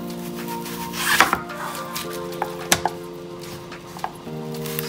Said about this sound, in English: We have 1 onion here and we're gonna dice it.